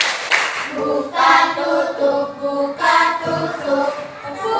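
Children clap their hands in time with a sung classroom action song, rhythmic claps blending with group singing at close range.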